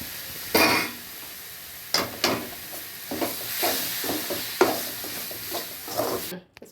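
Meat curry stuffing for curry dosa sautéing in a pan, a close hissing sizzle broken by repeated scraping stirs of a spatula every second or so, each stir swelling the crackle before it settles, with no voices.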